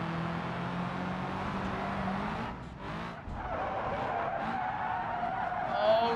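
Tires skid and squeal continuously as a Hirochi truck slides around in the BeamNG driving game, with engine noise underneath. The sound dips briefly in the middle and then picks back up.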